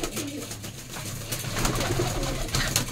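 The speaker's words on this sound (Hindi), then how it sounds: "छतरी पे लगे हुए उड़ते हुए पंजाबी मलवई कबूतर है" Punjabi Malwai pigeons on a rooftop loft coo softly and repeatedly in a steady low murmur, with faint rustling and background noise throughout.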